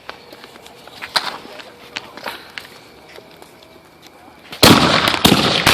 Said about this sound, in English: That's some firecracker.